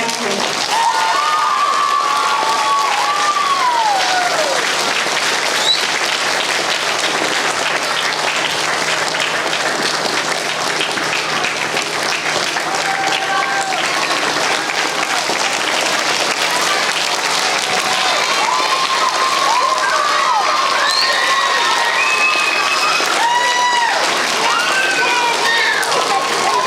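Sustained audience applause at an elementary school Veterans Day program, steady dense clapping with some cheering and murmuring voices, loud and continuous throughout.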